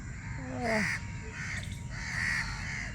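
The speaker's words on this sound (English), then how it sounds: "You can listen the chirping of birds, crow and all other birds." Crows caw a few times over a steady outdoor background, with softer bird calls scattered through the morning ambience.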